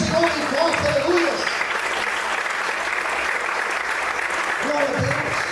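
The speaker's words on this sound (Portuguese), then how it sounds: "Aplauda o Senhor bem forte," Church congregation clapping loudly and steadily during a service, the applause holding throughout while a preacher's voice speaks over it near the beginning and again near the end.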